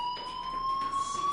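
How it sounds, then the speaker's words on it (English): A school fire alarm in the game Life is Strange rings steadily for the whole moment as a continuous high electronic tone with a faint pulsing undertone, moderately loud and heard alone with no talking. "Hey, do you hear that fire alarm?"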